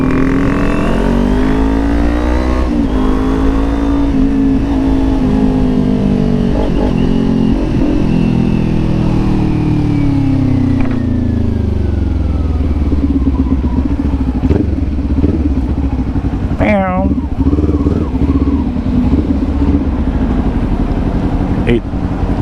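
A Kawasaki Ninja 400 motorcycle engine revs loudly and continuously close by, its pitch sweeping up and down through repeated throttle blips, with a brief sharp rising whine near the end.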